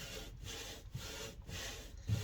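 Scope rings being lapped with lapping compound, a steady gritty rubbing pushed back and forth in an even rhythm, about four strokes with brief pauses between, close and fairly quiet.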